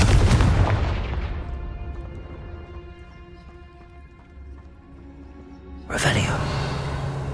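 A Confringo blasting spell from Hogwarts Legacy erupts in a loud, broadband burst at the start, fades into a lingering rumbling tail under a low game score, then a second sharp blast hits near the end.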